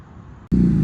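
A motorcycle engine approaching a house at night: after a quiet stretch, a deep, loud rumble kicks in abruptly and holds steady close by.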